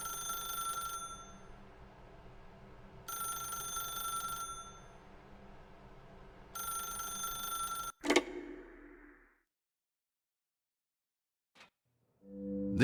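An in-game telephone in The Stanley Parable: Ultra Deluxe rings in three bright, bell-like bursts spaced a few seconds apart. A loud thump follows, then near silence with a few faint clicks.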